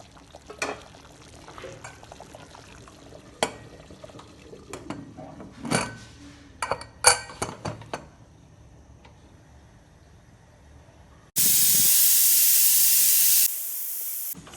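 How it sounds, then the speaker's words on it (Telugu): A pressure cooker holding rice for Karnataka-style chicken donne biryani lets out a loud, harsh burst of whistling steam lasting about two seconds, then settles into a softer hiss, after scattered clicks and kitchen clatter. "సో 2 విజిల్స్ వచ్చినాయి కదా."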